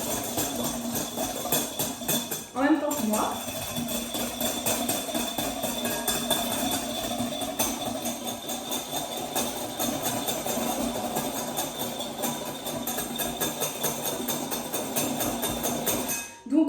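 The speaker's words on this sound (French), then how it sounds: "vous prenez votre fouet et vous mélangez." A whisk clatters steadily and fast in a bowl of iced coffee mixture for the whole stretch, close and busy, with a brief spoken remark near the start.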